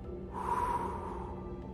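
A single breath is blown out through the mouth as a calming exercise, a soft, close airy whoosh lasting about a second.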